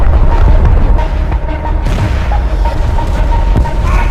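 Heavy 380mm naval guns fire in the War Thunder video game, giving loud, rumbling booms that roll continuously with dense low-frequency thunder and no pauses.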